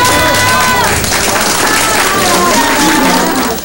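Steady applause and crowd noise from a large party gathering welcoming Wu Poh-hsiung's delegation back to Taiwan, loud and continuous, with a voice speaking over the clapping.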